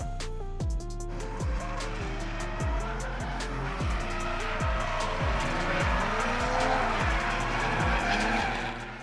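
Drift cars in Japan, including Nissan drift cars, burn rubber with continuous tire squeal over revving engines whose pitch repeatedly climbs and drops as the cars shift, loud and steady throughout.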